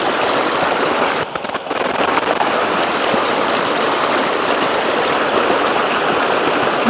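A river current flowing past a fishing spot, a loud, constant rushing and gurgling of water that fills the scene without pause, with one brief dip partway through.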